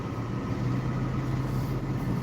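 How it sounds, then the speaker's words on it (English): A semi-truck rumbles by on the road, a steady low engine drone with no clear approach or fade, continuous and moderately loud. "You can hear that semi-truck."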